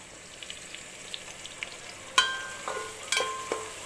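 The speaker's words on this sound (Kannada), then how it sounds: "ಚೆನ್ನಾಗಿ ಕೆಂಪು ಫ್ರೈ ಆಗಬೇಕಿದು ಇದು ಚೆನ್ನಾಗಿ ಈಗ ಈರುಳ್ಳಿ ಫ್ರೈ ಆಗಿದೆ" Onions frying in hot oil for a Kerala-style dum biryani give a steady close sizzle, with a few sharper spoon-and-pan clatters from stirring toward the end.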